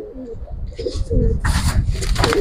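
Racing pigeons coo in a loft in Old Dhaka, with soft low coos close by and fluttering, rustling noise rising midway.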